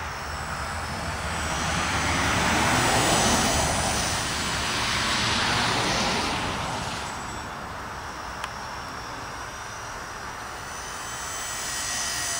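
A small toy RC helicopter, an E-flite MSR or Syma S-107, flies with a continuous faint whirring drone that swells and fades gently as it moves, with no talk.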